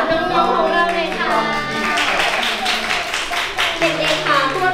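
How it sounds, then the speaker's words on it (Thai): Parents and audience clap for children at a singing show, steady clapping under talk and children's voices, with sustained voiced sounds rising above the applause. "ขอเสียงปรบมือเป็นกำลังใจให้กับน้องๆของเราเลยค่ะ"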